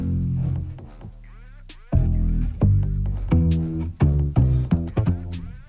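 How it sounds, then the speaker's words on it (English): A heavily distorted, compressed synth bass made in Ableton plays a run of thick, buzzy, gritty notes in an uneven rhythm, with no talking. "just really smashed and squashed our bass sound with lots of distortion and compression"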